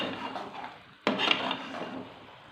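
Cooked bitter gourd (karela) curry being served from a pan into a dish: metal utensils scrape and clink against cookware, with a sharper clatter partway through, fairly close and without talk.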